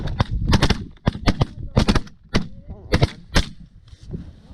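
Shotgun blasts during a duck and goose hunt in a Minnesota blizzard, several loud close shots in quick irregular volleys, with geese honking between them.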